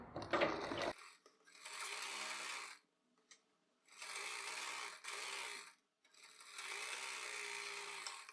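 A sewing machine stitches salwar pieces together with a half-inch seam, running in three steady whirring bursts separated by short pauses, close and alone without talk.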